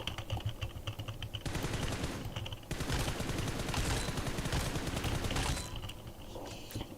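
Sustained automatic gunfire bursts in the mobile battle royale game PUBG Mobile, loud rattling volleys with a short pause, close and dominant in the mix.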